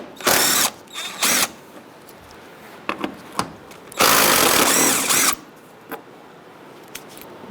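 A power ratchet with a 10mm socket backing out a bolt on a 2010-2013 Kia Soul 2.0L during AC condenser removal, short sharp whirring bursts followed by a longer run, with small clicks between, close and loud.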